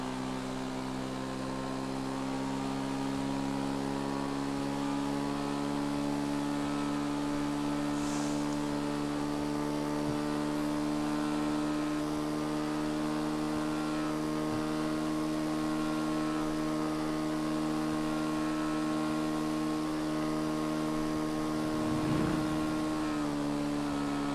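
A Manchez Scout motorcycle in GTA Online held at top speed without a wheelie, giving a steady, loud, unbroken engine drone with constant harmonics for over twenty seconds and no voices.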